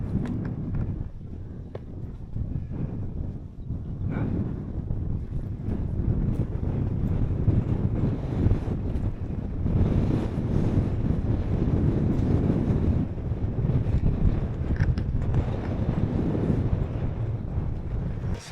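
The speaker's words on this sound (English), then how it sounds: "Too windy!" Strong wind buffeting a microphone outdoors near East Mill Tor, producing a continuous loud rumbling roar with surging gusts throughout.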